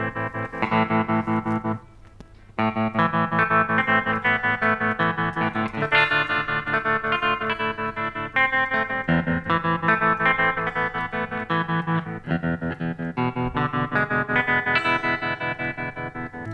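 Electric guitar strumming steady rhythm chords through a Boss TR-2 tremolo pedal on a choppy setting with depth fully up, the volume pulsing quickly and evenly, loud and continuous apart from one brief gap.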